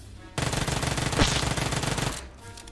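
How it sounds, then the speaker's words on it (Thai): A rapid automatic burst of gunfire in PUBG Mobile crackles loudly and close for about two seconds, then cuts off abruptly, with no talking over it. "ยิงกันแล้วยิงกันแล้วนะครับ"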